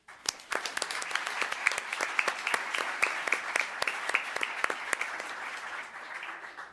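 Applause from people at a town council meeting in Los Gatos, steady scattered hand claps with distinct individual slaps, moderately close, continuing for several seconds before thinning out.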